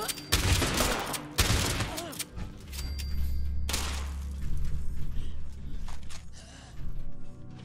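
Gunfire in the video game Fallout 76, with dense bursts of shots and heavy thumps over a low rumble, loud and close, broken by brief gasps or vocal noises.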